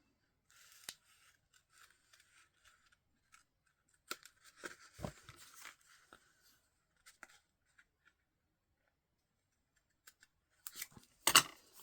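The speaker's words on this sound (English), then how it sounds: "a little fussy cutting around the corner." Scissors snip paper while fussy-cutting around a corner for a purse journal. Sparse, quiet snips and light paper rustles come alone, with a louder flurry of cuts near the end.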